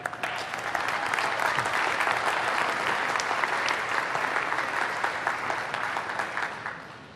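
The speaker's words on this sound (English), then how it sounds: "Clap for yourselves." Graduates and audience applaud at a spring honors ceremony, a broad sustained wave of clapping that swells quickly, holds steady, then tapers off toward the end.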